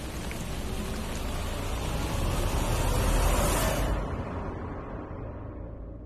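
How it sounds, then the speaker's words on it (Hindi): Steady rain pours down during a TV drama scene, a dense continuous wash of drops that swells slightly midway and then eases and dulls toward the end, with no one talking. "काश ये बारिश बंद हो जाए"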